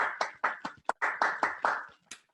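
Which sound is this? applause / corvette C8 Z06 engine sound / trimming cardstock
applause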